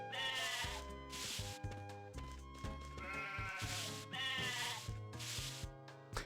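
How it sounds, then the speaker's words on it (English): Sheep in the Harvest Moon video game bleat repeatedly over looping game music, with several clear synthesized bleats in quick succession. "You have to go for the sheep."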